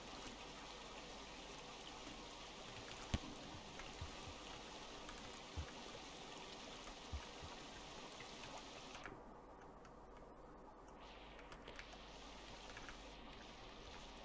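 Water flowing in the game Rain World, a faint steady trickling stream that runs continuously, with a few soft splashes or drips standing out now and then.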